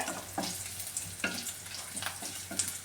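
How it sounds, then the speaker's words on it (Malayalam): Curry leaves, shallots and dried red chillies crackle and sizzle in hot oil for a jackfruit seed thoran, with a steady close frying hiss broken by several sharp pops and stirring scrapes. "എടുത്ത് വെച്ചിരിക്കുന്ന ഈ കറിവേപ്പിലയും ചെറിയുള്ളിയും വറ്റൽമുളകും കൂടി ഇട്ട് കൊടുക്കുകയാണ്. ഇത് നന്നായിട്ടൊന്ന് മൂപ്പിച്ചെടുക്കാമേ."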